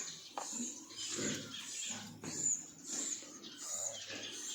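Pigs in their pens grunt and snuffle in faint, low, irregular bursts, close by and with no talking.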